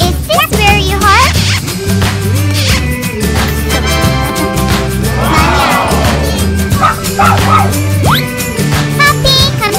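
A puppy barks in repeated short yips and bow-wows over steady background music, with a voice speaking briefly during children's pretend play.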